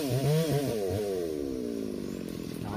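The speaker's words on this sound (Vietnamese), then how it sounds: "tiếng máy cưa rất là to" A chainsaw runs steadily while cutting rubber trees in a garden, its engine whining and shifting pitch as it bites and revs, heard from a moderate distance with no talk over it.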